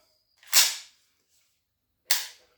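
A pump-action gun is dry fired after its live round is ejected, giving two sharp, crisp mechanical clacks about a second and a half apart, close and alone in otherwise silent surroundings.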